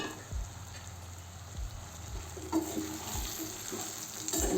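Soybeans tossed into a pan and frying for a soyabean bhaji, with a steady low sizzle and several soft thumps and scrapes as they are stirred, close and moderately loud.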